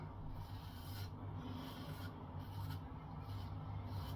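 Close, quiet rasping scrape of an aluminium safety razor cutting through lathered beard stubble, repeated in short strokes with brief pauses between them.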